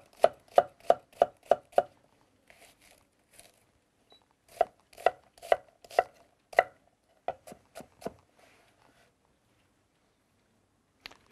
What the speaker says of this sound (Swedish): Vi har en ganska stor halv gul lök som vi också hackar ner.